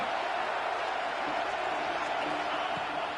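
A stadium crowd in the college football video game NCAA 26 roars in a steady, dense wall of cheering and applause that fills the whole moment.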